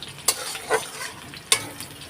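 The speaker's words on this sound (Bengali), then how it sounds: "পেঁয়াজটা ভাজা ভাজা হয়ে গেছে" Onions frying in a pan for a Bengali curry, a soft low sizzle broken by a few sharp scraping stirs of the spatula, close and quiet with no talking.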